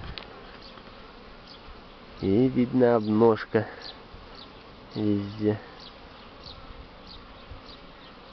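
Honeybees fly around hives in warm weather, giving a faint steady buzz under the sound. Someone speaks in Russian partway through.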